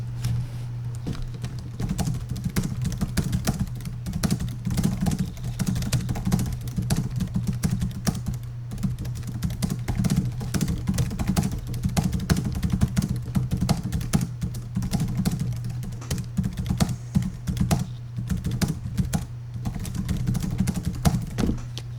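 Rapid, steady typing on a Dell Inspiron E1505 laptop keyboard, light clicky keystrokes pattering continuously throughout with a faint hum underneath.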